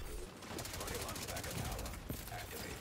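Rapid automatic gunfire in The Division 2 crackles in a dense, fast burst through most of the moment, loud and close, with a voice shouting over it.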